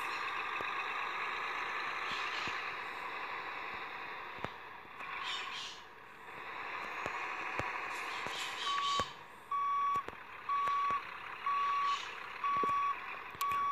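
Truck reversing alarm in the Grand Truck Simulator video game, a steady series of evenly spaced electronic beeps over a constant engine drone, sounding clear and fairly close.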